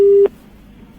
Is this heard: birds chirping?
no